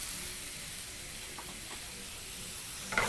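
Garam masala, cinnamon and cumin powders fry in a pan with a soft, steady sizzling hiss, faint and continuous, ending in a brief louder scrape.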